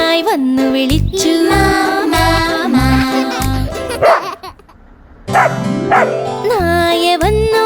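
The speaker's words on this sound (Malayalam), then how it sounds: "നായ വന്നു നായ വന്നു" A dog barks in a short burst during a brief pause in a Malayalam children's animal-sounds song. A sung melody with a steady beat plays before and after it.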